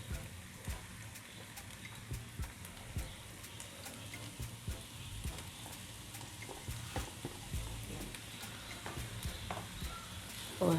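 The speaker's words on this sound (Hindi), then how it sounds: "और हम इसको अब फ्राई करेंगे कीमे को।" Minced meat (keema) fries with onions in a pan, giving a soft, close sizzle broken by frequent scraping and stirring clacks of a spoon against the pan, quiet overall with no speech.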